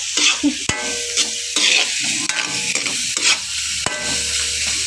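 Mung beans are stirred in a cooking pot, repeated scraping strokes of a spoon against the pot over a continuous sizzling bubble, close and fairly loud.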